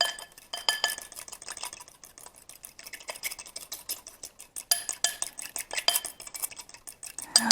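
A whisk beats a mustard salad dressing in a bowl, making quick, irregular metallic clinks and scrapes that come in close, light bursts with no talking.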